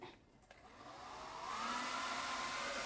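A blow dryer runs on wet clothes, a steady airy whoosh that swells from a quiet start to a louder, even roar with a faint motor whine, no voices heard.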